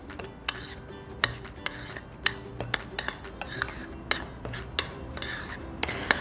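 A spoon scrapes and clinks against a bowl in irregular strokes, sharp taps punctuating a soft gritty rubbing of flour and salt being mixed for salt dough.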